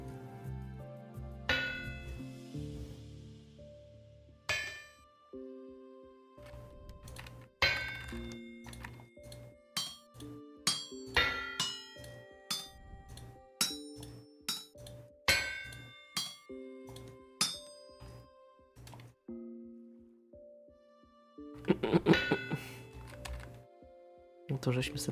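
A drop hammer forges iron into bars in the Vintage Story video game, striking in a steady series of sharp metallic clangs and thunks, with ringing tones between hits and someone talking over it.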